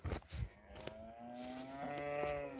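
Cows on a farm moo, with a few short bumps of handling noise first, then one long drawn-out low moo rising in strength and fairly close.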